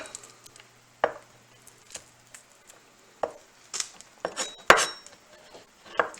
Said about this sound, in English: And then just gently rock over it like that. And it minces it right up.